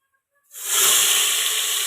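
Mutton pieces drop into very hot oil, bursting into a loud, sustained sizzle that starts abruptly after a brief quiet moment and holds steady without fading.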